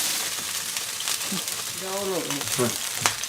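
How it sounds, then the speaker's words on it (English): Ginger frying in a pan after beef has been removed, a continuous close sizzle throughout, with a brief voice and some scraping partway through. "You can leave the ginger in the pan, so that will still draw more flavor into the tomatoes."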